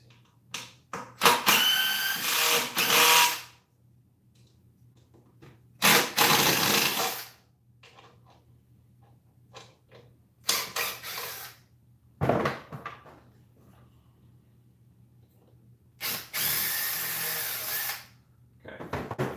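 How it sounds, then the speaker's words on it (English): Power drill backing screws out of a wooden piece in a home workshop: several separate whirring bursts, each a few seconds long, close and loud, with quiet gaps between them. "Now I have to undo those screws to make sure I can get this head off easy."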